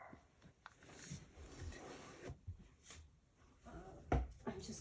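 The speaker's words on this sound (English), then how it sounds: "I'm just gonna let him bark." A dog barks indoors, with a few sharp, fairly close barks standing out against quiet room noise and light handling sounds, the loudest near the end.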